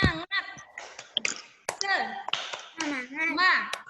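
Children on a Zoom call do the tepuk semangat spirit clap, a quick patterned sequence of claps and taps mixed with young voices chanting along, close and slightly compressed.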